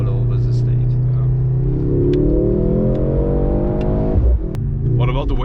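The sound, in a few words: Mercedes C63 AMG 4-cylinder accelerating at full throttle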